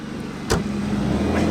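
A brown Triumph TR6 classic rally car with American-spec bumpers at an Oulton Park classic rally event, its engine running with a steady low rumble and a brief sharp click or thump early on.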